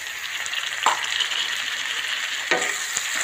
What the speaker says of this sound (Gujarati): ડુંગળી સરસ શેકાઈ રહી છે, ટામેટું નાખી દઈશું આપણે.